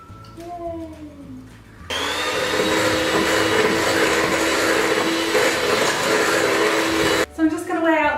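An electric mixer whirs loudly and steadily for several seconds, beating an egg into cookie dough for white and milk chocolate cookies, starting and stopping abruptly, with a voice speaking just before and after.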